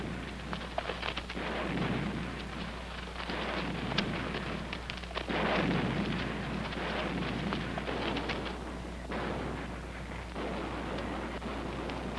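Distant naval gunfire from the battleship USS Missouri bombarding a Korean beach, a continuous low rumbling roar with repeated heavy booms rolling together, far off and steady, with no voices.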